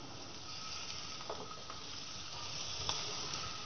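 Scallops sizzle in a hot pan, a faint, steady frying hiss that carries on evenly, with a few soft clicks over it.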